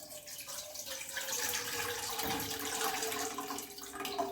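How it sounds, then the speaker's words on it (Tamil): Tamarind water pours steadily into a pot for Chala fish aviyal, a continuous splashing trickle heard close up with no talk over it. "புளி கரைசலை உள்ளே சேர்க்க போகிறேன்."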